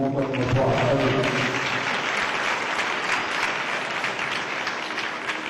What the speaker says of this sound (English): So we're giving them one applause.